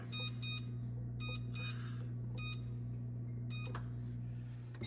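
Several short electronic beeps in quick pairs and clusters from an oven control panel being set to preheat, over a steady low hum.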